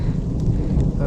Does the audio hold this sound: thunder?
yes